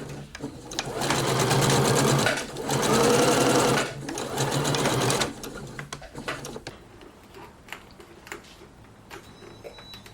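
Sewing machine stitching a sleeve seam on a lace trim sleeve, running loud and close in steady bursts with two short pauses over the first five seconds, then settling into quiet handling noises.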